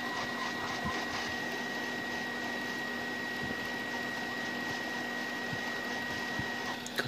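A hot air rework station blows steadily while heating solder and flux on a Redmi Note 8 phone board, giving a constant airy hiss with a faint steady whine and no talk.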